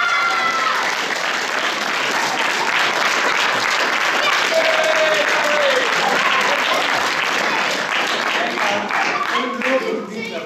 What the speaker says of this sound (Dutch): dan wil ik ook graag direct een applaus voor Marit Ogger